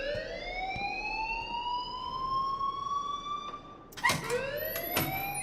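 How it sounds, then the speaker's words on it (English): An alarm wails with a steady rising electronic tone in a school setting in the Life Is Strange video game, then a sharp clatter breaks in and the tone restarts, with no talking. "please turn off that alarm since that's your job"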